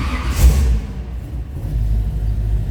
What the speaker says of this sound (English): Let's go ahead and start this up so you can hear it